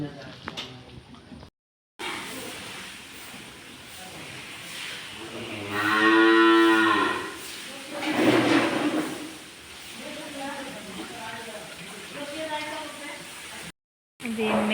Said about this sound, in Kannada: ಎಮ್ಮೆ